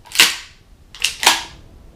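A sharp mechanical clack from an APS airsoft pump shotgun's pump action, followed by a quick second clack and a snappy shot, all close and crisp.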